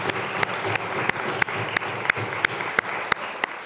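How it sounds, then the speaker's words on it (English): A conference audience gives steady, moderately loud applause, with a few distinct claps punching through at a regular rhythm and no talking. "give her a round of applause for her photography this week"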